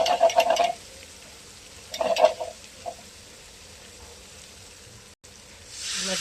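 Masala being sautéed and stirred in a pan, with short bursts of scraping and sizzling at the start and around two seconds, then a quieter simmering lull before the frying noise rises again.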